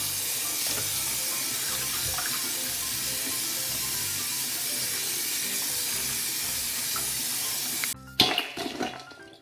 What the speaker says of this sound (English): rinse your salted young radish